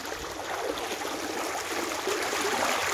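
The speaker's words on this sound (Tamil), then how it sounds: "அப்படி அலையோட சவுண்டு கேளுங்க." Water flowing steadily over stones at a rocky stream outdoors, a constant broadband rushing wash, close and continuous with no voices.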